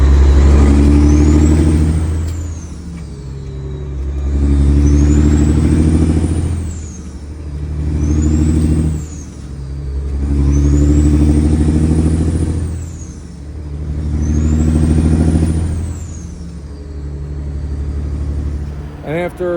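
Work truck engine with a weak injector running with a fluttery, pulsing idle, its low rumble swelling and fading in a rough rhythm close by, with a faint periodic whine above.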